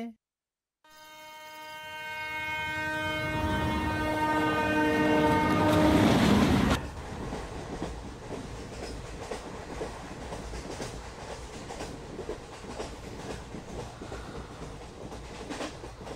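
A train rolls along the rails toward a station, its loud sustained horn blaring for several seconds before giving way to a steady rumble and rhythmic clatter of the wheels.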